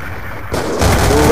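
Rocket launcher fire in a video game comes as a loud, sharp boom that swells into a sustained roaring blast, very close and loud, with no speech.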